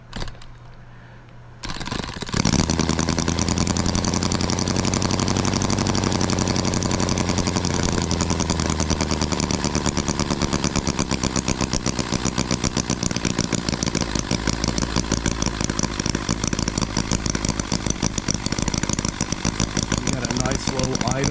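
A small H 75 engine driving a generator, started by hand: a brief pull and catch, then a loud, steady near-field running chug settling into an even low idle around 1450 RPM, with no talk over it.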